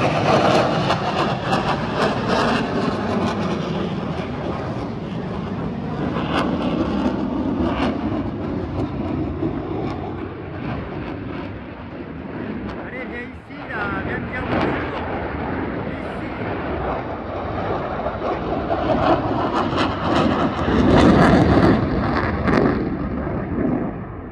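Airplanes fly low over a garden, a loud, sustained roar that swells and fades in waves with rumbling bursts and no talk.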